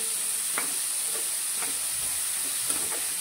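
Green masala of chilli, ginger and garlic fries in a pan with a steady, even sizzle and hiss, broken by a few soft scraping stirs at regular intervals.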